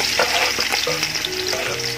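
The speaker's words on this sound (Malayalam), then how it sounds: "ആദ്യം നമുക്ക് കുറച്ച് സവാള ഒന്ന് ഫ്രൈ ചെയ്തെടുക്കാം." Sliced onions fry in hot oil in a large pot for a Kozhikode chicken biryani, a loud close bubbling hiss with scraping stirs and small clatters throughout, no one speaking.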